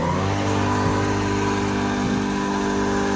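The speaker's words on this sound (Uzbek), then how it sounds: "Motor 3 kilovat. Ishlab turibdi." A 3 kW electric motor on a universal feed mill machine running steadily, a loud constant hum with a smooth, even drone throughout and no talking.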